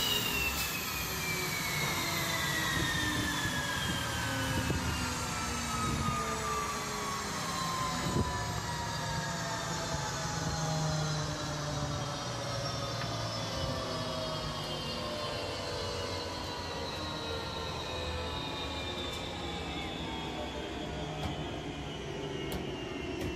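An Azerbaijani MiG-29 jet sits on the ground at Teknofest 2021 as its twin engines whine steadily and close by. The tones slowly sink in pitch as the engines spool down, with no one speaking.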